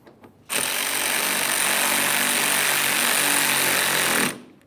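A power tool drives the 10mm-headed mounting bolts of an air ride suspension compressor on a 2011-2021 Jeep Grand Cherokee: one loud, steady rattling burst lasting about four seconds, close up and with no talking.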